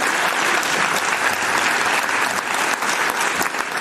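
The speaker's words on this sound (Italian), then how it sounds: "vi chiediamo un altro applauso per coloro che collaborano con noi che non si vedono" An audience claps loudly and continuously, with dense, even applause filling the room from start to finish.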